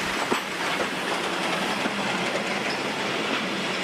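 A steam train rolls along the rails with a continuous rumbling roar and faint rhythmic clicks of wheels over track joints, steady and close.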